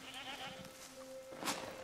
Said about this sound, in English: Oh, it's goats! It's goats!